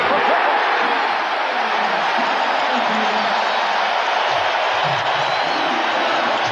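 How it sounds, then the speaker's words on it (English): Arena crowd at the 1997 NBA Finals, Chicago Bulls against Utah Jazz, roaring and cheering in a steady, loud, dense wash from start to finish, with a courtside commentator talking over it. "Ron Harper bringing the crowd to its feet"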